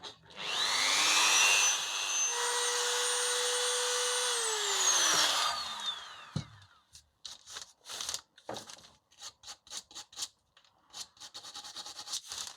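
A Dremel rotary tool fitted with a brush attachment whirs loudly and steadily for about six seconds while working the edges of a prop tablet, then spins down and gives way to scattered taps and handling noises.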